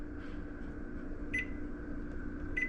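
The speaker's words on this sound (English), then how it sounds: "I'm gonna go ahead and set a little timer here" A kitchen timer is set during cooking, giving two short, high electronic beeps about a second apart over a steady low hum of kitchen background noise. The beeps are faint, with no talk.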